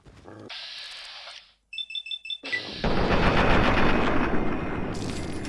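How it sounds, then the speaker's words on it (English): Rapid mechanical bursts and a steady roaring stream of fire from a laser minigun in Fallout 3, loud and close, preceded by a high electronic whine and beeping tones, with no talking. "Yeah, that guy's got some sort of laser minigun."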